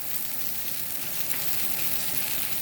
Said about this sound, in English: Just letting it fry up.